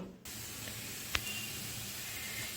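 A steady, broad hiss of potatoes frying in a pan runs throughout, with one brief clink partway through; no voices.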